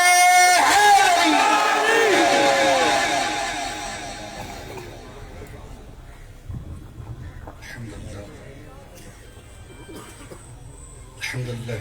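A large crowd at an Urs religious gathering shouts devotional slogans in loud bursts that fade out, with voices and scattered calls continuing underneath.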